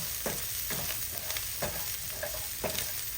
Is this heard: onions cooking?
yes